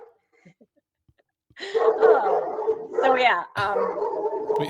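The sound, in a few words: dog barking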